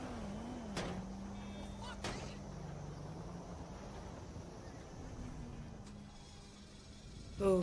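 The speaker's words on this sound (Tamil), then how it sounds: "நம்ம வண்டி ஸ்டார்ட் ஆகுது" A Toyota Supra's engine turns over and settles into a low, even idle in GTA 5, with two sharp clicks early on and a brief louder burst at the very end.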